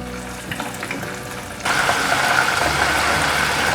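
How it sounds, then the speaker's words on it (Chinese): Pieces of eggplant drop into hot oil in a wok, and a quiet background gives way to a sudden, loud, steady sizzle that carries on close by. No voices are heard. "油已经热了，把茄子放进来炸。"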